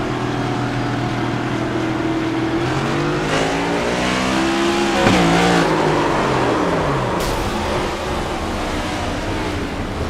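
On-board race car engine in a racing video game, holding steady revs, then shifting through gears with rising and falling pitch sweeps, loud and continuous with no talk.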